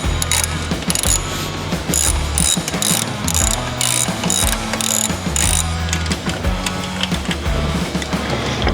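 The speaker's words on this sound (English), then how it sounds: "with a 1/2-inch socket, is remove your acorn nuts and your bullet turn signals" A ratchet with a 1/2-inch socket loosens acorn nuts on a Harley touring motorcycle, rapid loud clicking in quick bursts and repeated strokes up close.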